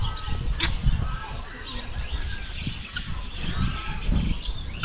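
Pigeons released to fly outdoors near a hut, with scattered chirps and coos, soft bursts of wing flapping and low rustling mixed through a busy open-air background.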